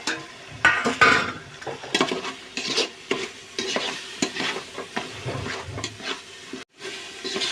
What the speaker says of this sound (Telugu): ఇప్పుడు ఇందులోకి టమాటో వేద్దాం.